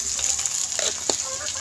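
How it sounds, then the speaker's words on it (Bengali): Spice masala sizzles and fries steadily in a pan for a village-style rohu fish curry with cauliflower and potato, with a few soft stirring scrapes breaking through the continuous hiss. "এবার মশলাটাকে ভালো করে কষিয়ে নেব।"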